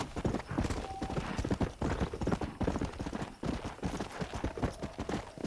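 Horse hooves clip-clop at a steady galloping rhythm in the Red Dead Redemption video game, close and loud throughout, with a brief whinny-like tone and faint game ambience underneath.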